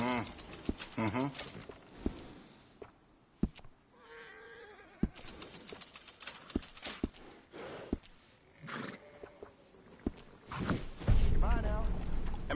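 Horse in Red Dead, sharp hoof clops and knocks scattered irregularly alongside whinnies and snorts, a louder rumbling burst near the end, with people talking in between.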